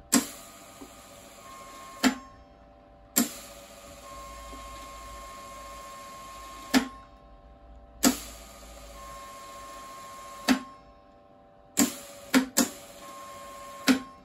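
An Eland 200 MIG welder feeding wire with the trigger held: a steady mechanical whir runs in several bursts of a few seconds, each start and stop marked by a sharp click, with no talking.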